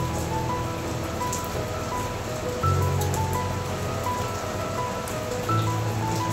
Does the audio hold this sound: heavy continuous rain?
yes